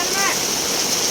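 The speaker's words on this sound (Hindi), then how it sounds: "देखो गाइस कितनी तेज़ बारिश हो गई है।" Heavy monsoon rain pouring down outdoors, a steady dense hiss like rushing water, loud and continuous through the moment with a faint voice briefly audible.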